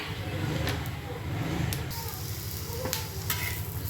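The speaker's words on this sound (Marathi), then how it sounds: "हे पण मस्त भाजून घेऊया." Ginger and garlic, with whole spices, frying in a pan, giving a steady close sizzle with occasional stirring scrapes and clinks.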